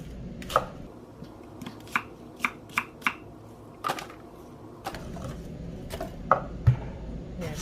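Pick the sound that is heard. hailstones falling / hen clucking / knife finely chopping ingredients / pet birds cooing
knife finely chopping ingredients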